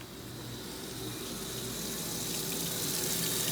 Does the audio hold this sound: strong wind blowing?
no